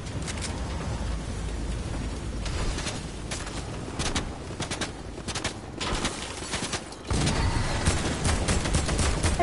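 Gunfire in Fortnite, a dense stream of overlapping shots and bursts from nearby and farther off, continuous throughout with brief sharp cracks standing out.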